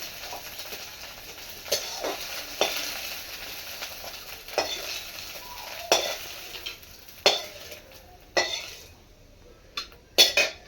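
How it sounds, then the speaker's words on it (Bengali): Cooked egg bhujia is scooped out of a frying pan with a metal spatula, repeated scrapes and clinks against the pan ringing out at irregular intervals over a soft, continuous sizzle. "এবার আমার ডিমের ভুজিয়াটা হয়ে গেছে, এখন তুলে নিই।"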